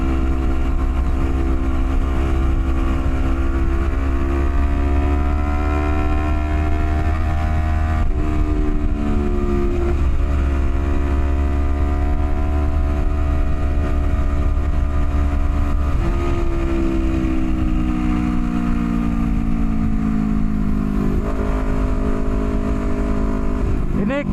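A motorcycle engine hums steadily throughout a morning ride, loud and close, with its pitch shifting up and down through several gear changes.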